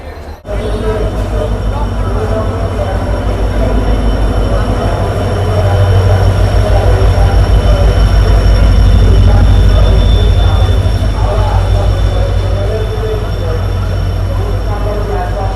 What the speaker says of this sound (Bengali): তো 11:20 বাজে ট্রেন এখন প্ল্যাটফর্মে দিয়ে দিয়েছে।